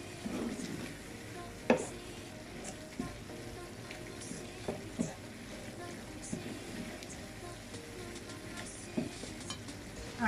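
Sliced sausage with fresh rosemary and chili flakes frying in a pan. A quiet, steady sizzle runs under occasional utensil clinks and scrapes, and soft speech is faintly present.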